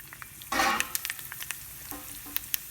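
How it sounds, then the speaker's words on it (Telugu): Tadka items such as curry leaves and green chillies hit hot oil for tamarind rice, setting off a sudden loud sizzle that settles into scattered crackles and pops close by. "నూనె వేడెక్కింది. నేను తడకా ఐటమ్స్ అన్నీ వేసేస్తున్నాను."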